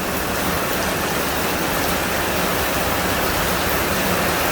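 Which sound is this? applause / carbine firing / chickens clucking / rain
rain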